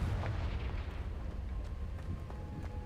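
Confringo fire spell blasting in the Hogwarts Legacy video game, a dense rumbling burst that holds steady for a few seconds with sharp crackles on top.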